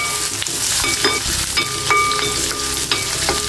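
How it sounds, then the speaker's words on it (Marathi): Chopped onion, curry leaves and pounded green chilli sautéing in hot oil for a banana flower dish, a loud close sizzle with scraping stirs and small crackles, no talking. "कांदा चांगला परतून घ्यायचा."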